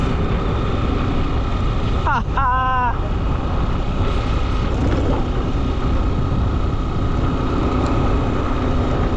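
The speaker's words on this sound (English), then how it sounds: "At the same time, we have too much wind" A constant low roar of wind buffets the microphone throughout, with a brief voice sounding briefly early on over the rumble.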